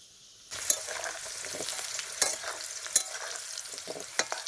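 Potatoes fry in a pan of spice masala, a soft continuous sizzle that starts abruptly, with occasional sharp clicks of a spoon stirring against the pan.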